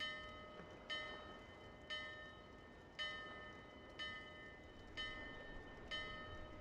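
A bell rung to summon a ship in Dark Souls II clangs six times at a steady pace of roughly one strike per second. Each bright metallic hit decays with a ringing tail over faint background ambience.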